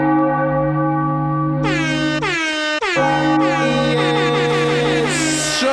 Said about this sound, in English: we're hitting the bell